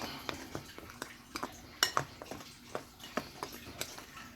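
A spoon scrapes and clinks against a bowl while stirring in water for Jamaican beef patty dough, in quick, irregular light taps, soft and close, with no voices.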